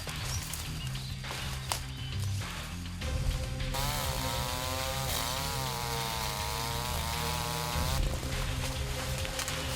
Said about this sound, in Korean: 벌목을 돕는 장비는 전기톱 하나뿐.